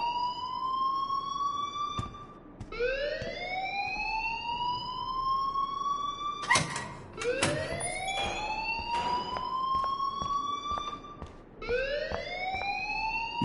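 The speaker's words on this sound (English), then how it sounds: "please turn off that alarm since that's your job." A repeating alarm in the video game Life is Strange sounds in rising, siren-like sweeps, several cycles that keep restarting, loud and continuous with a few sharp clatters partway through and no talking.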